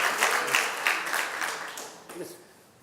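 Audience applause for Dr. Mustafa at a university alumni scholarship banquet, a spread of clapping that tapers off and fades out while a voice begins speaking over it.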